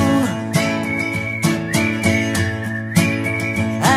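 A melodic whistled tune carries a pop song, sitting over guitar, bass and drums in a steady rhythm, with no singing during the passage.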